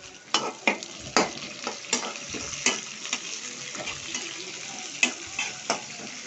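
Onions sizzle and fry in a pan with curry leaves, a steady crackling hiss broken by repeated scraping stirs at a close, even rhythm.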